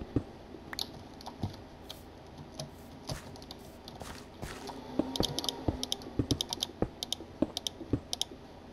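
Irregular clicks of a computer keyboard being typed on during a Pixelmon game session, sparse at first, then quicker and denser bursts of close, crisp key taps toward the end.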